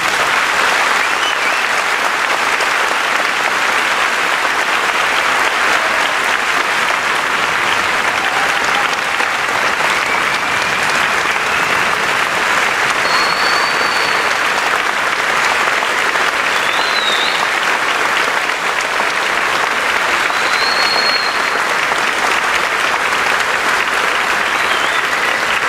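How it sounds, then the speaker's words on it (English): A large school audience applauds honored military veterans at a Medal of Honor recipient's visit, with steady, dense clapping filling the hall continuously at full volume, unbroken throughout. "Please give these worthy individuals a round of applause."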